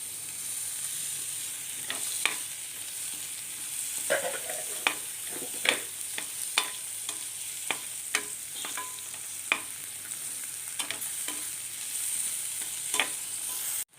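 Chopped tomato frying in a pan makes a steady soft sizzle, broken by intermittent scraping taps as it is stirred, close and moderately quiet.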